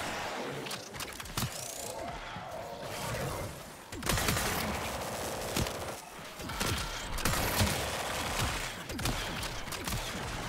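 Rapid gunfire in the Warframe video game, with dense bursts of shots and impacts continuing loudly throughout and no talk over it.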